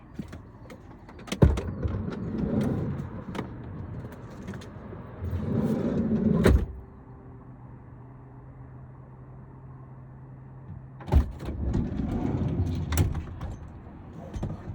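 Campervan door handled outside in cool weather: a sharp latch clunk and sliding rumble, a quiet pause with low hum, then another clunk and rattling slide as the door shuts, fairly close.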